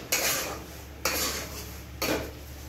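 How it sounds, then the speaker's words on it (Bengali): Semolina dry-frying in a pan over low heat is stirred in three distinct scraping strokes about a second apart, a spoon rasping against the metal, with no voices. "1 মিনিট ভালো করে নেড়ে নিচ্ছে।"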